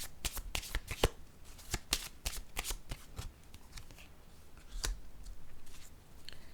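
Tarot cards shuffled by hand in quick, crisp riffles and flicks, close and fairly quiet, with the snapping bursts thinning out into softer sliding toward the end.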